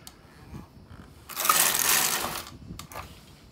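A knitting machine carriage sweeps across the needle bed in one rattling, whooshing pass lasting about a second, with small clicks and taps before and after.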